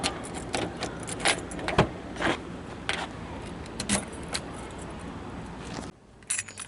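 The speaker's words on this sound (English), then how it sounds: "grab your fob, turn it around, hit the little lever, take out your key" A car key fob has its mechanical key released by a small lever and slid out, giving close metallic clicks, scrapes and jangles throughout, with no talking.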